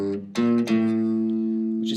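A bass guitar plays part of a riff: a few plucked, sustained notes in a short phrase, clear and close, played alone with no talk.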